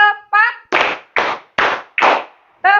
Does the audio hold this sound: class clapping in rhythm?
yes